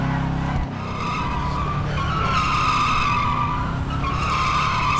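A car in the video game GTA V spins donuts, its tires skidding and squealing continuously over a steady engine roar. The screech is loud and sustained throughout.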